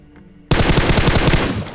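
Loud, rapid automatic gunfire bursts in suddenly after a quiet moment and keeps up as a dense, rattling stream of shots during a battle royale video game match.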